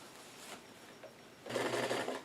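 A sewing machine stitches a newsboy cap along its bottom edge, a soft whirring run that grows louder and steadier halfway through.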